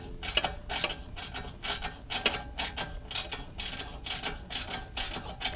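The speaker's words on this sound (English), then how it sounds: "all I have to do now is just tighten down the mounting bracket bolts and the lower belly pan bolts" Ratchet tightening the lower belly pan bolts on a new Honda Goldwing, in repeated quick bursts of rapid clicking strokes, close and fairly quiet, with no talk.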